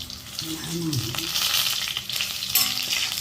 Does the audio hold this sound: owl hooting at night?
no